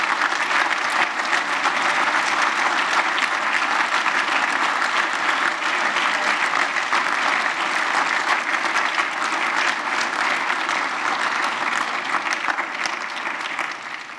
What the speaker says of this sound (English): I want everybody to give her a round of applause real quickly.